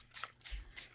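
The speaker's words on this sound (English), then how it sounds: "Let's spray on this." Three quick hissing bursts of Bundled Sage ink spray onto paper, short and evenly spaced, soft and close with no voices.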